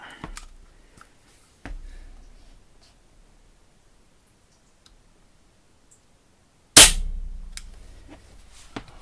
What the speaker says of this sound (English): I'll shoot one more here, just to be certain I've got at least got 5.